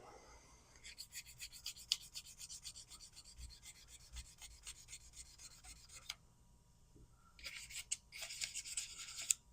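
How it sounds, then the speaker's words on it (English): A razor blade scrapes gunk off a carburetor part from a 1985 Johnson 15 hp outboard motor. Quick, rhythmic scraping strokes come in bursts with brief pauses, quiet and close. "I scratched it a little bit with that razor blade."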